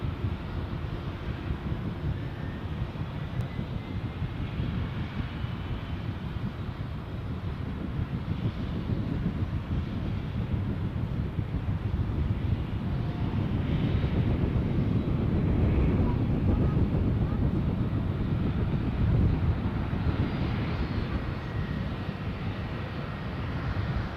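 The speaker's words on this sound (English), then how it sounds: "So our Condor flight to Gran Canaria should be rolling now." A Condor airliner rolls for takeoff at Düsseldorf airport, a broad low jet roar building gradually and swelling toward the middle before holding steady, heard from a distance with some wind buffeting and no speech.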